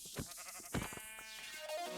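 Sheep in Minecraft, a couple of close, wavering bleats standing out clearly against a quiet background.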